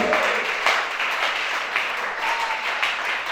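Church congregation applauding during a sermon by a prophet in Gabon, a steady wash of clapping from many hands that swells and holds for a few seconds with no voice over it.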